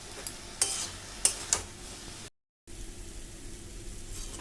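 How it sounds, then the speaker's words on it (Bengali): Water lilies stirred in a pan with turmeric and salt, a spoon giving a few sharp scraping clicks against the metal over a soft steady hiss, then a brief dropout followed by quiet low noise. "হলুদ গুঁড়ো আর দেব লবণ দিয়ে এটাকে ভালো করে নাড়াচাড়া করে দেবো।"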